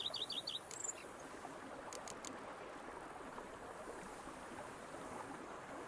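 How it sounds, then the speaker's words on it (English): Birdsong and a buzz of bees fill an outdoor idyll in The Witcher 3, with a few quick high chirps near the start over a steady, soft insect-and-breeze hum that continues alone. "Bees buzzing, birds chirping."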